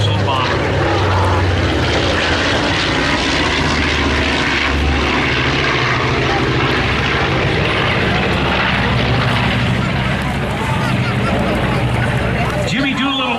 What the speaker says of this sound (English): This is the B-25 Mitchell bomber.